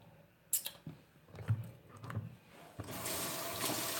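Tap water runs into a sink as hands are washed, with a few soft splashes and handling knocks before the flow turns into a steady, close rush in the last second or so.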